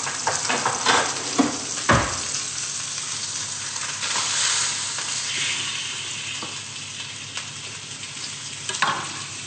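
Fish frying in a hot pan, a loud close sizzle that hisses on continuously, with occasional clatters and stirring knocks breaking through.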